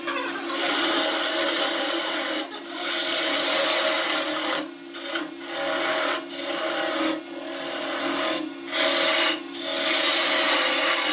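A woodturning tool cuts wood spinning on a lathe, giving a continuous loud scraping, rasping hiss with a steady motor drone beneath, briefly interrupted by several short gaps as the tool lifts off.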